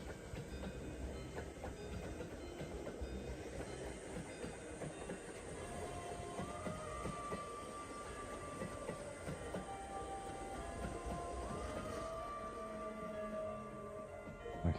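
A Thomas the Tank Engine themed train in Japan rolls past steadily with continuous rumbling wheels and rail clatter, some hiss and a faint tonal whine, fairly close and without talk.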